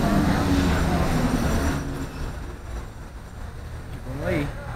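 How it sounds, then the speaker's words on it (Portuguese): A train pulls into a station on Avenida São João in São Paulo during a street festival, a loud, broad rumble that fades after a couple of seconds, with people talking over the noise. "Chegou o trem, ó."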